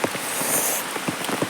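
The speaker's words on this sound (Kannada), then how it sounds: "ನೋಡಿ ಮಳೆ ಹೇಗೆ ಬಂದಿದೆ" Rain falls steadily on a surface, heard as a dense close hiss with scattered louder drop patters, alone without voices.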